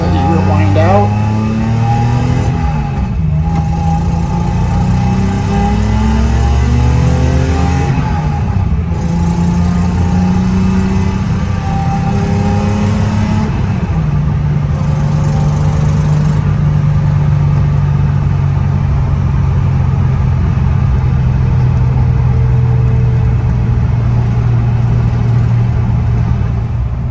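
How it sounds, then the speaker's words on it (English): 1973 Datsun 240Z with an L28 engine pulling through the gears, loud in-car engine note climbing in pitch and dropping at each shift, then settling into a steady drone, with someone talking throughout. "pull it through the gears a little bit, let you hear it wind out."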